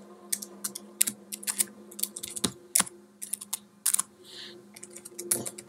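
Close, irregular typing on a computer keyboard as a software command is entered, with crisp clicks in quick bursts and short pauses between them in an otherwise quiet room.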